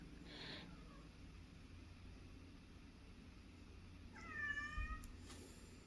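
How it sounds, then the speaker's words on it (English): A little kitten calls from a quiet room: one short, high meow near the start, then a second longer, wavering meow a few seconds later, both fairly soft against a low steady background hiss. "a little kitten calling."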